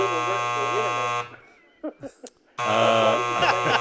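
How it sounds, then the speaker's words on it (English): An electronic game-show buzzer sounds on a sports talk radio show. Two long, loud, harsh buzzes are separated by a short pause in which someone speaks briefly. "Hey, you only get one buzzer over there."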